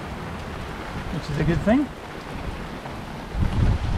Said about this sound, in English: Hit us, about 30 knot winds and heavy rain.